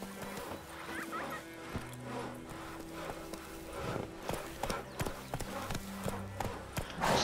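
A horse's hooves clip-clop in The Witcher 3, a steady close trotting rhythm of hoofbeats over a low in-game music bed.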